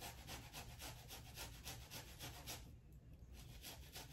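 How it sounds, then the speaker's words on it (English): A shallot rasped over a grater into a pimento spread mixture, giving a quick run of soft, close scraping strokes, quiet and alone. "I'm gonna just shave it into my mixture."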